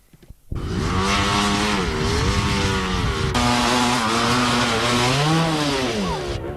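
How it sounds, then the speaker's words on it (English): A sidecar motorcycle at the 1994 Powys Enduro, round two of the sidecar championship, roars loud and near, its engine pitch rising and falling with throttle changes for several seconds. "In the distance, another sidecar appears."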